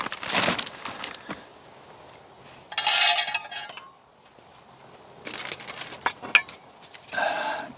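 A metal steamer tray dropped into a Fire Maple camping pot gives sharp clinks and clattering metal knocks close by, in scattered bursts with quiet gaps between.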